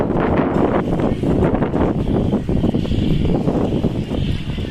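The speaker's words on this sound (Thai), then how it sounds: "ลมแรงมากค่ะ" Strong storm wind roars steadily and loudly across the microphone, a dense continuous rush with gusty buffeting and no pauses.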